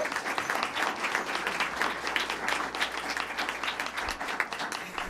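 Steady audience applause at a school board meeting, as a teacher is honored; dense, continuous clapping of a crowd filling the room for about five seconds without a break.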